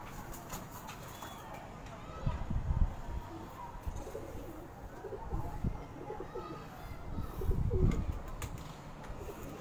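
A female pigeon in a fancier's loft coos in low, soft bursts at intervals, close but fairly faint, amid rustling and handling noise, with people talking nearby.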